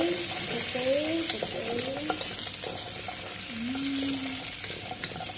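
Onions, carrots, peppercorns and bay leaves sauté in a pan with a steady sizzle and occasional stirring. Faint voice-like tones sit in the background.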